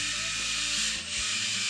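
A drill-mounted scrub brush worked at low speed over the carpet of a Ford F150 truck during detailing, giving a steady close bristly rubbing hiss with a brief dip midway.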